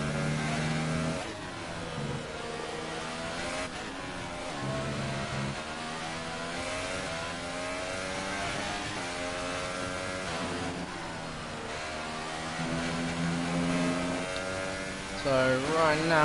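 A Williams Formula 1 car engine in F1 2018 at the Hungary round drones steadily with rising and falling pitch through gear changes, held for the whole stretch while a voice talks over it.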